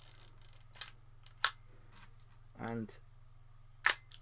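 An Exakta 35mm film camera being wound with its left-hand lever and its cloth shutter firing: sharp mechanical clicks and a short ratcheting burr, spaced apart over a steady low hum, with a brief spoken word.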